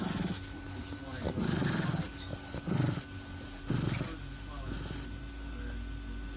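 A dog sniffing close to a camera gives several short bursts of snuffling breath in quick sequence, loud and near, over a steady low background hum.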